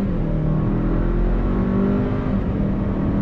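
A 2022 Hyundai Santa Cruz pulls away from a stop in first gear, its engine droning steadily and loudly as it accelerates, with no talk over the sound.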